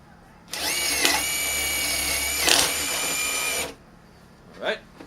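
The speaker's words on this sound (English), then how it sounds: "I'm going to just drill this real quick." A power drill whines steadily for about three seconds, boring a power-cable hole in an electronic cat toy tower, its pitch rising briefly midway, then stops; a short clatter follows.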